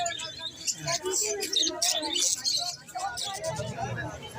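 Quails at a pet market call in short chirping bursts, mixed with other caged birds and a busy crowd, while people talk loudly over them nearby.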